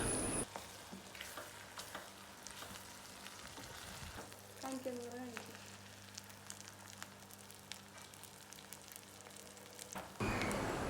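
Clam meat fries in a pan with a soft, steady sizzle as its water cooks off, fairly quiet and continuous, broken by faint pops and a scrape or two.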